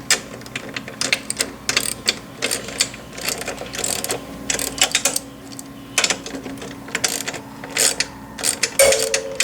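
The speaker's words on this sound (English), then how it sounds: "Remove the bracket using a 5/16 socket." Socket wrench with a 5/16 socket ratcheting off a bracket during a V300 purger retrofit, producing rapid close clicking bursts in repeated strokes with short pauses between, loud and with no talk.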